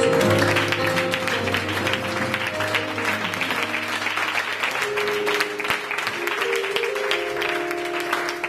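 A church congregation applauding during a Sunday service, with loud, sustained clapping over sustained organ or keyboard chords and some voices in the room.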